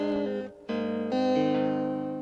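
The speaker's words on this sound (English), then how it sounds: "this is the sound of an electric guitar" Clean electric guitar notes ring out alone, a couple of sustained tones with a brief gap before a new note that holds and slowly fades.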